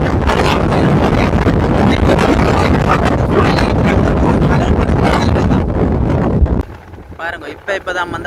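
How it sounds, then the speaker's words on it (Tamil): Strong wind roars across the microphone on a rough seashore at Colombuthurai in Jaffna, a loud continuous buffeting that drops off near the end as a voice comes through. "இன்னும் காற்று கூட்டி கொண்டு தான் இருக்குது சூழல்ல"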